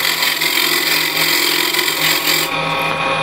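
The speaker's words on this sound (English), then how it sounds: "Scrape on the bottom. Just clean this up" A woodturning tool scrapes the bottom of a turned wooden piece on the lathe, a steady, close, rasping hiss that runs continuously and alone, thinning slightly near the end.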